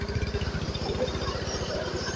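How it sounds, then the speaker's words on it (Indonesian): A Honda Beat Pop two-stroke motorcycle engine idles close by with a fast, steady pulsing putter, a rebuilt engine puffing white exhaust smoke, running evenly throughout at moderate level. "Ini motor 2 tak."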